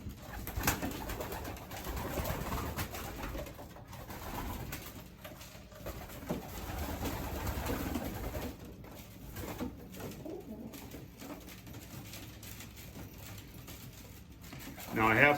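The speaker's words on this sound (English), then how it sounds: "I've still got one more cock in here that's been chasing her around pretty diligently" Pigeons coo softly in a backyard loft while a man moves about nearby, with some rustling and patter mixed in and occasional quiet speech.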